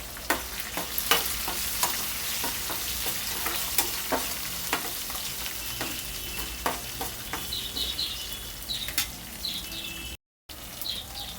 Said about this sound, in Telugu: ఉల్లిపాయలు కూడా వేసుకుందామండి. కలుపుకుందామండి.